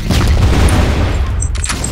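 A grenade blast in Counter-Strike lands as a loud, sustained low rumble across the whole two seconds, with scattered higher crackle and debris on top and no speech over it.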